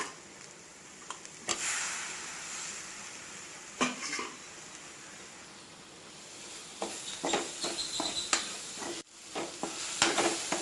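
Tomatoes sautéing in a pan for black chickpea rice: a steady, moderate sizzle with spoon scrapes and stirring clatter, brief louder knocks near the start and middle, and a denser burst of stirring toward the end.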